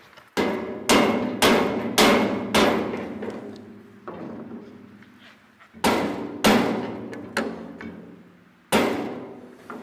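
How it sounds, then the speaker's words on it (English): Rubber mallet tapping a spacer into place on a TMG Industrial 10-foot squeeze cattle work chute: sharp, ringing metallic knocks in uneven clusters, close and loud, each blow trailing off in a short resonant decay. "let me go grab a rubber mallet and I'll just, all right, this is gonna be my spacer"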